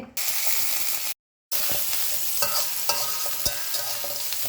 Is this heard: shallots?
yes